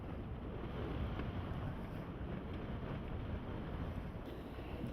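Strong wind roars steadily at sea during a Contessa 32 sailing regatta off Cowes, a dense continuous rush with buffeting against the microphone and no talk.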